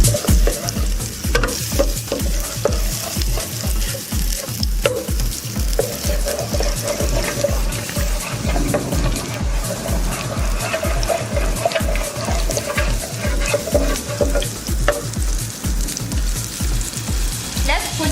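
Chopped onions frying in melted fat in a home kitchen pan, a loud steady sizzle with scraping stirs and occasional clinks, a faint voice now and then.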